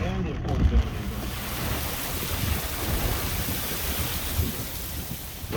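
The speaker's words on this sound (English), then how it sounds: "Raining sideways" Heavy storm rain driven sideways by wind lashes an RV, a dense, steady roar of rain and gusts close to the microphone, with no clear breaks.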